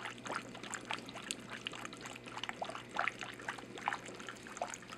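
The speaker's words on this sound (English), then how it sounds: "You can see it's overflowing and starting to fill the upper reservoir here." Water overflows and trickles into the upper reservoir of a homemade aquaponics system built from a Brita water filter pitcher, a close, steady dribbling and splashing with small bubbly bursts throughout.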